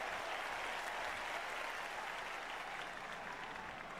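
Dense, steady clapping and applause from a large crowd in a Japanese arena in the WWE 2K25 video game, continuous and even throughout with no chanting.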